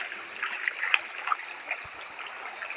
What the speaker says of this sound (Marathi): पर्याला पण पाणी पण आहे, बऱ्यापैकी आहे.